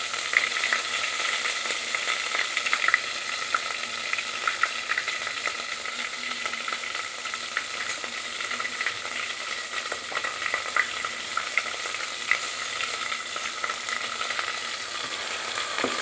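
Coconut masala, ground in a mixer, fries in hot oil with a steady close crackling sizzle and faint spoon scrapes that run unbroken throughout, with no talking.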